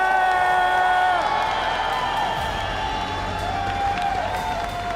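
A stadium crowd at the Clash Royale League World Finals 2025 cheers, whoops and applauds loudly and continuously, with a dense roar and tonal sounds riding over it throughout.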